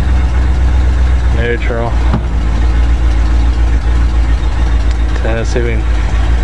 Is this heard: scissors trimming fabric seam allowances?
no